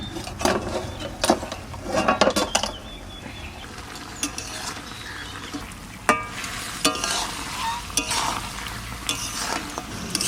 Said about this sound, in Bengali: এবার ঢাকনাটা একটু তুলে নাড়া দিয়ে দেবো।